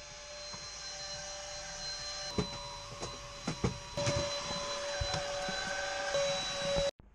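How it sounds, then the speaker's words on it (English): A vacuum cleaner hoovers inside a motorhome, running as a loud, steady whine for several seconds with scattered knocks and bumps as it moves, then cuts off abruptly at the end. "so I'm going to get the hoover out now."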